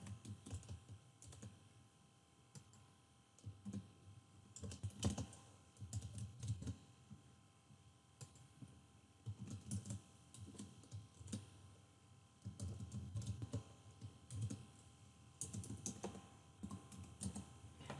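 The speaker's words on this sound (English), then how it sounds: "Type in the information." Keys clatter on a computer keyboard in quick, uneven bursts with short pauses while contact details are entered in Outlook, faint and close in a quiet room.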